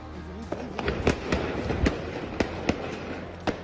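Firecrackers set off in Jerusalem during the Israel–Palestine war, an irregular string of sharp, loud cracks and pops at varying distances over a low background rumble, with no talk.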